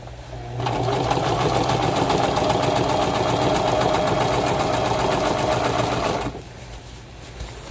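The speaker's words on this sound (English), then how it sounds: "Now, with this particular design, I am sewing inside of the circle." A sewing machine stitches around embroidery circles on a pair of pants, running loud and steady for about six seconds with a rapid even chatter, then stopping to near quiet.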